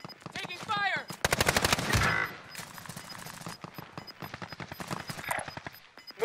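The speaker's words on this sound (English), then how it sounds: "Taking fire!" Bursts of automatic gunfire ring out in a Call of Duty: Modern Warfare match, sharp rapid shots mixed with radio-style voices and talk.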